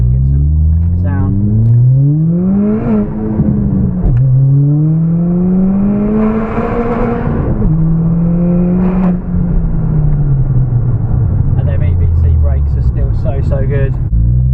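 A 350bhp Ford Fiesta ST engine revs hard while driving with the windows down, pitch climbing in repeated sweeps through the gears, dropping at each shift, loud and close, with some cabin noise near the end.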